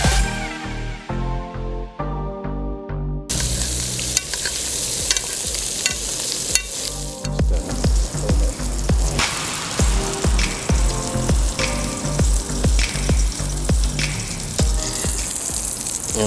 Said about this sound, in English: Look at the sizzle.